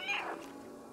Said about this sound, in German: Drücke B, um zu miauen.